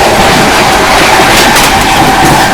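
The Howrah–Barmer Superfast Express rushes past at close range near Aligarh Junction, a loud, steady roar of wheels and carriages with a continuous rattle and no pauses.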